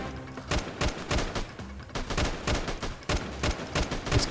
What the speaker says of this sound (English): I am being shot. Being shot from over here